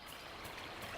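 River water flows steadily in Dragon Age: Inquisition, a continuous broad rushing wash with no voices, even and moderately loud for the whole second.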